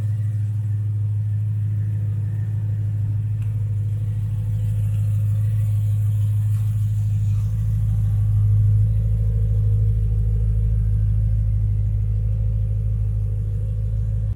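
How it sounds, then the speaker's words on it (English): A BMW M3 engine idles loudly in a garage, a deep steady rumble with a strong low hum that swells slightly midway, close and continuous with no talk. "My car is really loud."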